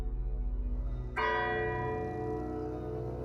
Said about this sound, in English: all unite in a dance of death to the music of the funeral bell